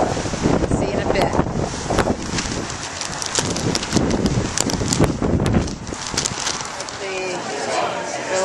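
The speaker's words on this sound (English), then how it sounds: "So it's a windy day, but it's warm." Wind gusts roar and buffet the microphone outdoors in Philadelphia on a warm, windy day, a loud rushing wash that rises and falls throughout, with a person speaking over it.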